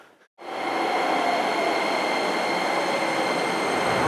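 A train in Japan, bound for Fukuoka, runs at speed after a sudden cut from near silence, giving a loud, steady rushing rumble with a faint high whine that continues unbroken.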